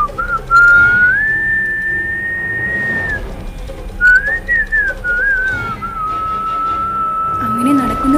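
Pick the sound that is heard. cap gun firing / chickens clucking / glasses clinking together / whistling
whistling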